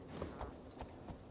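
Horse hooves clip-clop in Assassin's Creed Valhalla, with a few faint, evenly spaced hoofbeats heard alone over a quiet game background.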